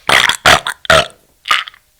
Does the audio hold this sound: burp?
yes